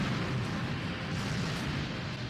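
A plane explodes in a film scene, heard as a loud, sustained roaring blast of broadband rumble that fills the whole two seconds without a break.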